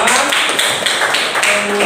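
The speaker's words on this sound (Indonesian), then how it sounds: "Tepuk tangan untuk Darmawan." Students in a classroom clap together in a dense, steady burst of applause lasting about two seconds, loud and close with no pause.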